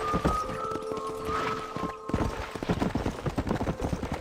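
A horse gallops in Red Dead Redemption, rapid clip-clop hoofbeats drumming steadily and close throughout, briefly layered with a sustained musical tone early on.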